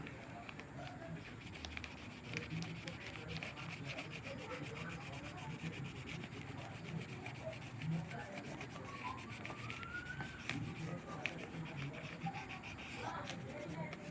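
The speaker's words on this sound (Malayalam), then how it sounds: "ക്രയോൺ ഉപയോഗിച്ച് വരച്ചു കൊടുക്കാം ആദ്യം അതിൻ്റെ സൈഡിൽ കൂടി വരച്ചിട്ട് പിന്നീട് ചരിച്ച് പിടിച്ച് കളർ ചെയ്താൽ മതിയാകും" A crayon shaded sideways across paper laid over a leaf, giving a soft, continuous scratchy rubbing that stays close and fairly faint throughout.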